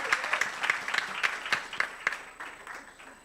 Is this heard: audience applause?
yes